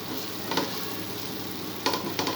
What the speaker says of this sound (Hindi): अब इनको थोड़ा सा इसमें सौते करते हैं